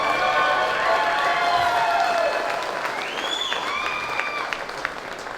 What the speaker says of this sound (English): I hate to ask for a round of applause, but if I throw the rock star, can I get a clap for me right here?